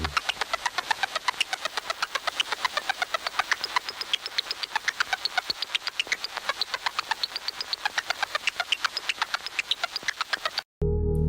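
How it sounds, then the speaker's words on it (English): Background loop from a Puppet Combo horror game trailer, compared to a VHS tape loading into a player, a continuous mechanical whirring with rapid, regular ticking pulses throughout, ending in a brief cut and burst. "the background noise from the trailer is the same noise that plays once you load a VHS tape or something into a cassette player"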